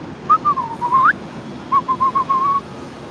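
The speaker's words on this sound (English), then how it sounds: "I can still whistle." A person whistles a short wavering tune: a sliding phrase that rises at the end, a pause, then a series of short repeated notes over faint background hiss.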